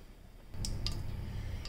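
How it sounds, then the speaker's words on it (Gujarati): Mustard seeds spluttering in hot oil in a pan, with a steady frying hiss and a few sharp isolated pops rising over it, close and fairly quiet. "રાઈને તતરવા દઈએ."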